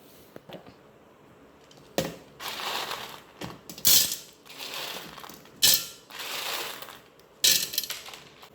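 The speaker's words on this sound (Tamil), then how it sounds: "இதை நம்ம மிக்சி ஜாரில் நம்ம பட்டு போல் பொடிக்க போகிறேன்" Dried jamun seeds are being powdered in a mixer grinder jar. Short bursts of the motor come in several separate pulses, bringing a whirring rattle and the clatter of hard seed bits against the jar, loud and close, with quiet gaps between them.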